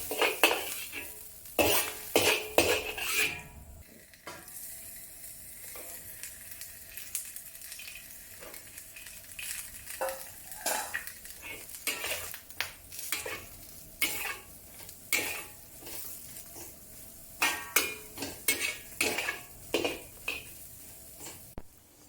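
Mushrooms stir-fry in a wok with a soft background sizzle, broken by repeated bursts of scraping and clattering from a spatula tossing them, busiest at the start and again near the end.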